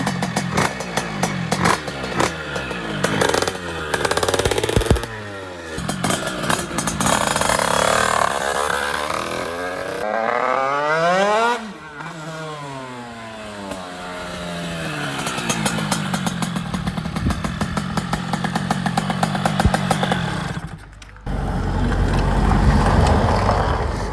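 A DT motorcycle engine running just after its first start following cylinder head work, loud and close, revving up and down with rising and falling sweeps before settling into a rough idle.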